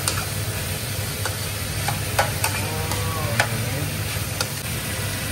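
Pork stirred and sizzling in a frying pan for creamy mushroom pork, a steady frying hiss with scattered scraping and clinking strokes of the utensil, close and moderately loud, with no talking.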